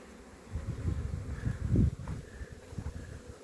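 Honey bees buzzing around a hive at an apiary, a close, fluctuating hum of many wings that swells briefly and then settles, with faint rustling outdoors.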